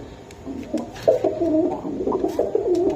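Pakistani Teddy and red Gorra pigeons coo close by, a steady run of soft, rolling low coos heard on their own.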